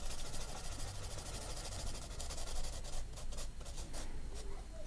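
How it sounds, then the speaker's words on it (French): Colored pencils scratch steadily across paper, a continuous dry hissing rub with faint irregular strokes, close and unaccompanied by voices. "Et je suis tellement contente de faire un peu de coloriage aujourd'hui."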